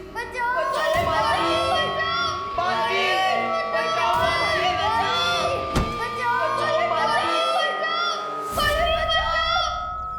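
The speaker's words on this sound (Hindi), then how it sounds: "भारत नगर के सभी बच्चे मुझे पुकार रहे हैं।" A crowd of children shout and call out together for help, a loud, continuous jumble of overlapping young voices with whoops and rising cries throughout.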